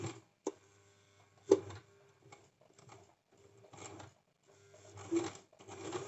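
A sewing machine stitches along the zipper of a pair of cigar-cut trousers in short, careful bursts of rapid mechanical ticking, separated by pauses and a few sharper clunks, close and fairly quiet.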